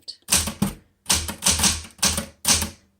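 Keys strike on a 1960s Smith Corona Galaxie 12 manual typewriter in four quick bursts of crisp, close clacks, with short pauses between the groups.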